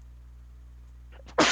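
A sudden loud sneeze bursts out at the very end, after near-silence with a faint hum and a few soft murmurs during an Ace Attorney game session.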